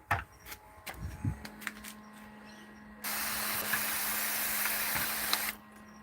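A few faint clicks and taps, then a steady hissing spray lasting about two and a half seconds before stopping abruptly.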